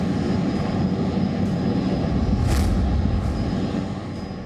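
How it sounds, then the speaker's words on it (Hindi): An Indian Army advanced light helicopter flying during winter in Ladakh, a loud continuous engine and rotor roar that holds steady and fades slightly toward the end. "भारत की थल सेना और वायु सेना इन हेलीकॉप्टरों का इस्तेमाल कर रही है"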